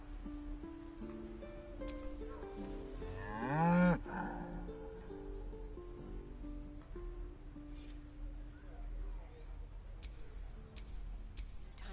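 A single deep, drawn-out moo from an ox in Baldur's Gate 3 swells loudly for about a second partway through, over a steady game music bed with soft ticking and rustling.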